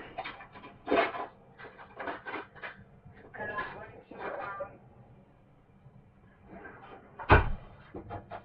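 Someone getting a knife in a home kitchen while making an omelet: scattered drawer and cupboard clatter, light utensil clinks and a sharper metallic knock near the end, all fairly faint and close, with bits of talk between.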